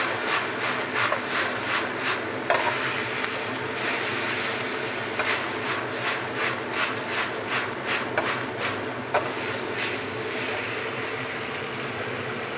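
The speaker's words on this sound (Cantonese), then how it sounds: "先放糖落去炒啊！" Steady loud sizzling and hiss of broccoli sprouts stir-frying with sugar in a hot wok, with repeated rhythmic scraping strokes of a spatula across the metal, close and continuous.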